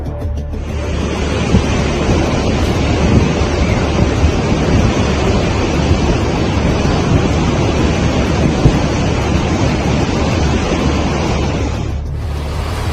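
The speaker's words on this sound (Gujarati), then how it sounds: "ભારે વરસાદના પગલે જિલ્લામાં નદી નાળા છલકાઈ ગયા" Rivers and streams in Dang district, Gujarat, swollen after heavy monsoon rain, rush with a loud, unbroken roar of churning water, and no voices can be heard.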